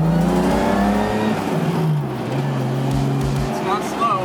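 A BMW E30 with an S50 engine swap accelerating, heard from inside as the engine revs rise and fall through several gear changes, loud and close, with people talking over it.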